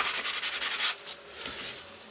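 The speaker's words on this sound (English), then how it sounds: "So it's ready for the top coat, and that light sanding will also aid the" Light hand sanding of a wooden box frame window surround in a campervan build, smoothing before the top coat: a quick run of rhythmic close scrubbing strokes followed by a few slower, softer passes.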